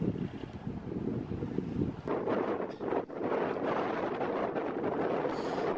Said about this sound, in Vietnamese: một chiếc ghe mạnh chụp, ghe này là của đảo Phú Quý các bạn, đang có tăng tốc tiến về bên cảng đảo Phú Quý này